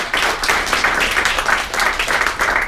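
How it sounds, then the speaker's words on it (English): An audience claps together in sustained, dense applause after a conference talk by Brad Bebee on GPUs for graph and predictive analytics. The clapping is steady and fairly loud, with no voices over it. "we're going to do a great round of applause to Bebee"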